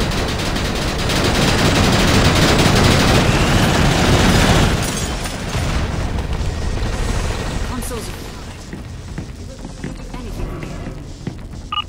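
Dense rapid gunfire and explosions crackle loudly in a shooter video game battle for several seconds, then fade to scattered sporadic shots and quieter ambience; no one speaks.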